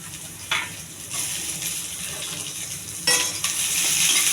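Mustard seeds, cumin, curry leaves, chana dal and a little onion fry in a pan for a beetroot fry, with a low sizzle broken by a couple of sharp metal scrapes and clinks from stirring.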